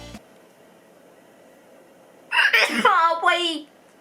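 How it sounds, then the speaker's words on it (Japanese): A person sneezes near the end after a long quiet stretch, giving a sudden loud burst followed by a short voiced trailing sound, close and alone. "くしゃみです。"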